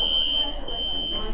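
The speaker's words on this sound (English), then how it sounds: "Not one but two fire alarms go off." A smoke alarm shrills with a steady high-pitched electronic tone, loud and continuous, over a busy background of murmuring voices.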